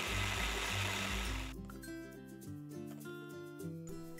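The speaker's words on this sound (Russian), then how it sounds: "500 грамм помидоров разрезаю на 2 или 4 части, в зависимости от размера помидор. И измельчаю с помощью блендера до состояния пюре." A kitchen blender whirs loudly for about a second and a half, pureeing cut tomatoes, then cuts off abruptly as light background music carries on alone.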